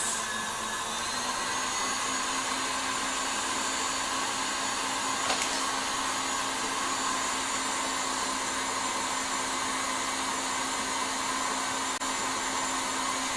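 An electric hand mixer whips meringue to stiff peaks for a Baked Alaska, giving a steady, loud motor whir that holds unbroken from start to finish with no talking over it.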